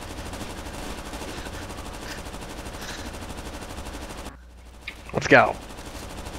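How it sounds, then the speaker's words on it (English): Glitched gunfire loops without pause in Rainbow Six Vegas 2, a steady rattling bed of repeated shots that cuts out briefly before a short voice and a sharp burst near the end. "The sounds of the shooting of the guns keep happening, and I don't know why."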